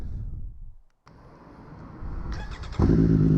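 A 2020 Triumph Street Triple RS motorcycle engine cranks briefly, catches, and settles into a loud, rumbling idle through a loud exhaust.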